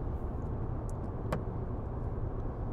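Quiet, steady road and engine hum from inside a 2009 Land Rover Discovery 2 Td5 commercial automatic cruising on smooth tarmac, a continuous low rumble with one faint brief click partway through.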